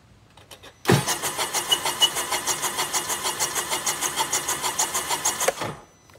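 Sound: Sea-Doo RXTX 300 jet ski engine revving at full throttle

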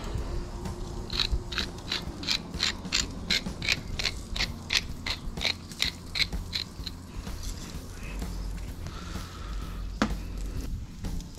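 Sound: pepper grinder cracking pepper

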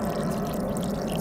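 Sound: water being poured in

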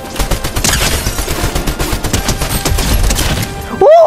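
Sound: gunfire in the video game Fortnite

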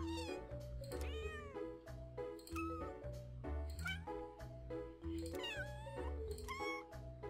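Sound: cat meowing in a video game

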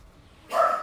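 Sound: dogs barking

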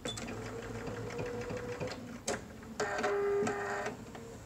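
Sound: sewing machine stitching a cotton mask seam

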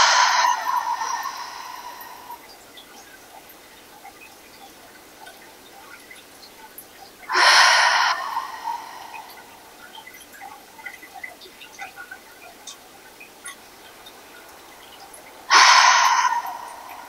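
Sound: breathing in through the nostrils and out through the mouth

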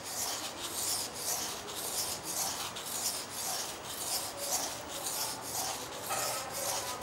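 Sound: rubbing wet sandpaper for relief engraving

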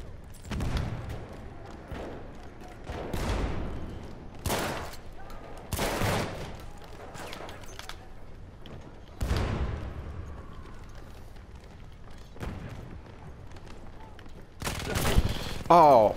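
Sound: sentry kit machine gun fire in a video game

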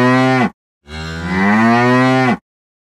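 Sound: person imitating a cow mooing

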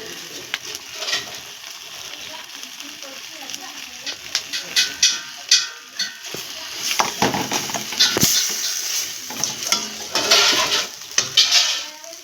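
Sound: spice paste with green chillies frying in a pan

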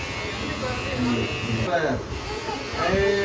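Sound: electric hair clipper during a child's haircut

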